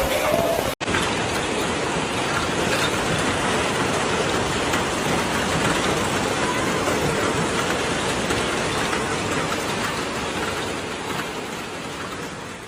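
Hail pounds rooftops and windows in Beijing, a dense, loud, unbroken roar of impacts with metallic rattles, easing slightly toward the end after a brief cut near the start.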